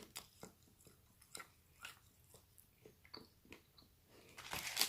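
Biting and chewing a Cadbury Double Decker chocolate bar, slightly melted on the outside, gives repeated close crunchy bites and soft munching in an irregular rhythm, ending with a louder rustle and crunch.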